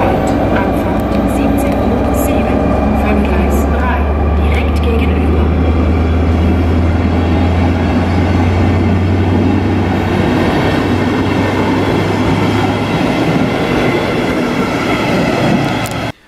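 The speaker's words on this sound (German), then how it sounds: "Hier seht ihr jetzt noch die Ausfahrt meines Zuges." A regional train pulls out of a station, its loud, steady rumble and low drone filling the whole stretch before cutting off abruptly at the end.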